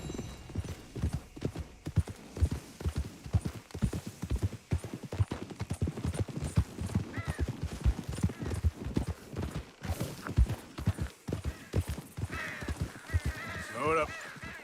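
Rapid, rhythmic hoofbeats of a galloping horse in Red Dead Redemption 2, steady clip-clop throughout with a few brief animal calls and faint voices near the end.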